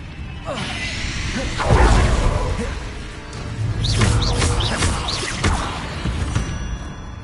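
Confringo spell cast in a Hogwarts game, a dense whooshing burst followed by crackling, chirpy magical effects and a rumbling impact, loud and layered over busy game sound, with a voice calling out the spell.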